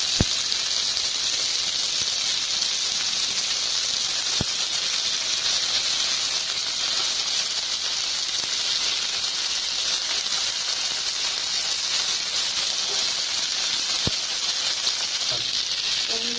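Chicken malai boti steaming in a covered pan over a low flame, giving a steady, even hiss that holds at the same level throughout with a few faint clicks and no voices.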